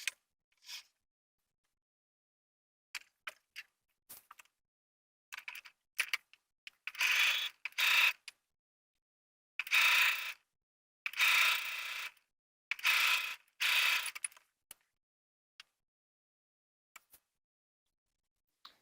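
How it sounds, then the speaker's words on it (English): A sewing machine stitches a pocket facing onto a pants front piece, with short whirring bursts of needle runs separated by silences and small mechanical clicks, close and quiet. "then I'm going to stitch along this edge"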